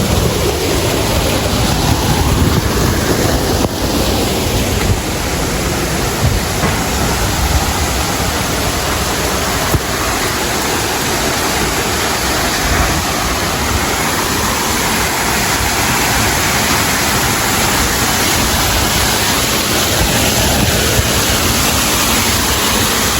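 Artificial waterfall of cold mountain water at Lola's Haven Resort in Infanta, Quezon, pouring down in a loud, steady, broadband rush that continues unbroken without any voices throughout.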